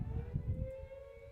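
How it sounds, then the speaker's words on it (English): A siren wails at a baseball stadium during a game, a steady tone heard fairly faintly over low crowd and field rumble. "Sirens going off as they usually here at George Taylor Field."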